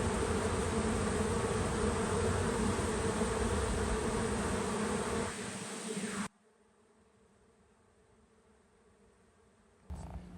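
Dense, steady buzzing of many honey bees close up at a small hive going into winter, which suddenly drops away to near silence before a brief return at the end.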